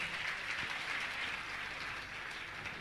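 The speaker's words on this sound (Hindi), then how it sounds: "आप जोरदार इनका ताली बजा के सम्मान करें" Faint, distant applause from the audience at a Jain religious discourse gathering, a steady patter of clapping hands with no voices over it.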